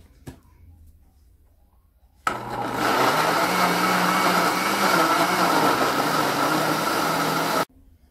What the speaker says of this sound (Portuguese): eu já bati aqui no liquidificador